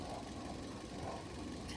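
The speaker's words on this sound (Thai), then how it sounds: "มาครับมาฟังเสียงเครื่องยนต์กัน โอ้โห เสียงเครื่อง นิ่งสนิทเลย" The 1.5-litre engine of a factory-original 2012 Toyota Vios automatic idles with a faint, smooth, steady low hum, with no talk over it.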